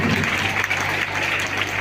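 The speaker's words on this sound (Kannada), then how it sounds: "ಎಲ್ಲ ಪಾಲಕ ಬಂಧುಗಳು ವಿದ್ಯಾರ್ಥಿಗಳು ಮಕ್ಕಳನ್ನು ಚಪ್ಪಾಳೆ ಮೂಲಕ ಪ್ರೋತ್ಸಾಹಿಸಬೇಕಾಗಿದೆ ವಿನಂತಿ." Parents and students clap for children at a school cultural programme, a dense, steady round of applause that holds for the whole moment over a low hum.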